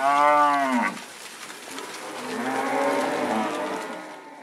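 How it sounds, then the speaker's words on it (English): Cattle moo loudly up close during a muster, one long harmonic bellow followed by another lower, drawn-out moo, with a faint rustling background between calls. "The cattle is mustered into yards"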